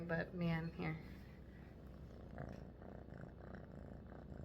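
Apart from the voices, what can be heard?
cat purring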